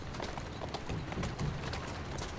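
Horse hooves galloping in the video game Assassin's Creed Syndicate, set in Victorian London, a dense rapid clatter that holds steady and close throughout with no talk.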